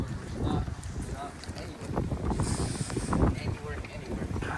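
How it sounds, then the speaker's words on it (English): Strong wind gusting outdoors at a car auction yard, rumbling heavily against the microphone in continuous loud buffets. "It's windy too, that's what makes it worse."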